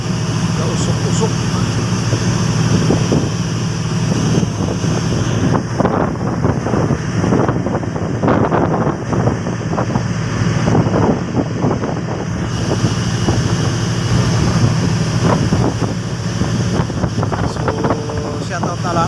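A strong amihan monsoon wind buffets a boat at sea, making constant gusty roaring and microphone rumble over engine and wave noise, with voices faintly under it.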